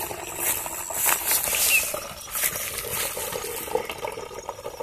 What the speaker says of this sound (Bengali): জল এখন ভর্তি হচ্ছে।